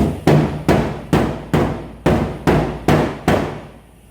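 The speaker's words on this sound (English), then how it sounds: "I'm using a soft face hammer mainly because it doesn't leave like dings in it" A soft-faced hammer shapes steel on a rust repair panel of an XF Falcon, eight strikes in a steady rhythm, each blow a dull, close thud with a short ring, no voices.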